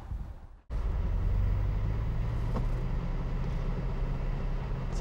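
A 2020 Mercedes-Benz S560 Cabriolet drives along after a short lull, its engine and road noise becoming a steady low rumble heard from inside the car.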